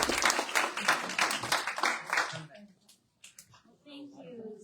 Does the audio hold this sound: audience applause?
yes